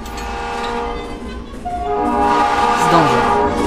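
A diesel train rumbles through a tunnel in a video game, a loud droning engine roar that swells and brightens as it passes close, heard alone.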